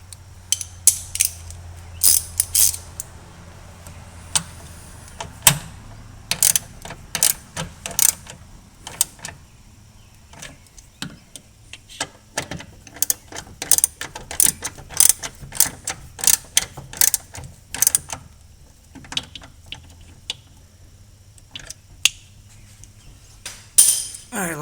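A ratchet tightens the ignition coil bolts on a 1979 Porsche 928, clicking close by in quick bursts and runs with short pauses throughout.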